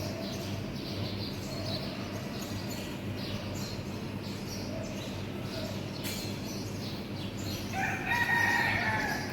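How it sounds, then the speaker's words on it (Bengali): A rooster crows in the distance over a steady background hum in Dhaka, with a louder burst of crowing near the end. "শুনতে পাচ্ছেন ঢাকাতে আমরা মোরগের ডাক শোনাতে পারলাম আপনাকে"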